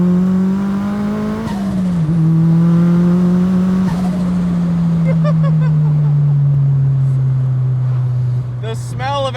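Turbocharged Mazda Miata running on E85, 470 wheel horsepower, pulling in fourth gear at half throttle past 4,000–5,000 RPM; a loud, steady, close engine drone with rising then settling pitch and turbo whoosh throughout.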